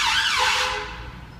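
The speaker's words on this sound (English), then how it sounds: "I have to put my fingers in my ears when sirens pass me." Emergency vehicle siren passing on a busy city street, a loud wailing tone that sweeps and fades as it moves away.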